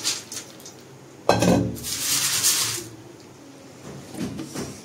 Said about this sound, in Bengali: মাখানা ভাজা হয়ে গেছে। এই যে এবার ঢেলে নিলাম।